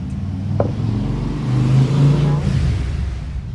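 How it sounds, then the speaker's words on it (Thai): A car passes close by, its loud engine rumble swelling toward the middle and then easing off over a continuous low roadside drone. "เสียงรถกดังคะจ้ะ"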